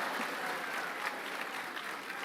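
Audience applause fills a school assembly hall, a steady dense wash of many hands clapping throughout at moderate distance, without a break.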